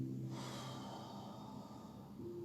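Deep, steady breathing during a slow stretching exercise, one long breath drawn close to the mic with a soft airy rush that fades into quieter exhalation.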